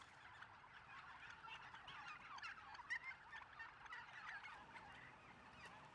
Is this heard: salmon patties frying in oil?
no